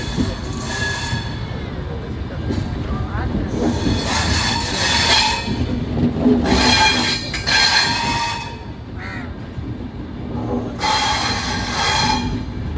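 The Mangaluru–Kabakaputtur passenger train runs at speed, making continuous loud rumbling and rattling from the carriage with repeated bursts of high wheel squeal, heard from on board.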